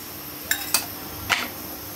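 Metal spoon scraping and knocking inside a pot of meat curry, three short clinks at close range over a faint steady background hiss, with no talking.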